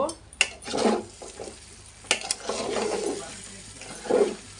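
Ginger and cumin powder frying in a pan for bhuna khichuri, with a spoon stirring and scraping in short irregular bursts over a soft sizzle, close and fairly quiet, with a voice talking in places.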